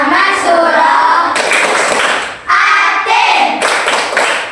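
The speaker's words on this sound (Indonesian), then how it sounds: "Ice breakingnya yaitu tepuk surah At-Tin." A classroom clapping game for Surah At-Tin, with a group of voices chanting in rhythm as hands clap together in bursts, loud and close, with brief pauses between phrases.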